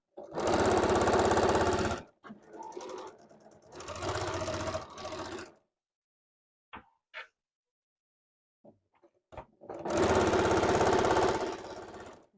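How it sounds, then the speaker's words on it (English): A sewing machine stitching a qaspeq vest runs loudly in three bursts of a few seconds each, a rapid mechanical chatter broken by quiet pauses with light handling clicks between them. "I'm sewing right now. I know it's loud."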